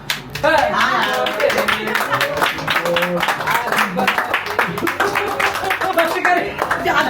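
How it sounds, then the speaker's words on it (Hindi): People clap together at a birthday party in a steady run of sharp, close handclaps, with voices chattering and calling out over it throughout. "ताली बजाओ"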